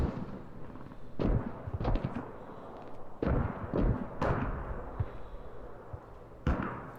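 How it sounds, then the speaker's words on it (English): Mortar explosions and bursts of machine gun fire sound in a combat video game match, sharp booms and rattling volleys scattered irregularly at middle distance over a low rumbling background. "All you can hear so far is just mortar explosions, machine gun fire."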